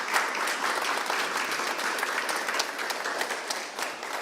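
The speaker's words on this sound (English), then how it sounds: "Let's have a round of applause for the Spokane leaders that you've lent to the state of Washington." Crowd applauding Spokane civic leaders at a Washington state reopening celebration, a dense, steady roar of many hands clapping, moderately loud and continuous throughout, with no speech over it.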